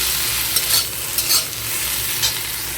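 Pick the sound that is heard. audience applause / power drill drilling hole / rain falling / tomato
tomato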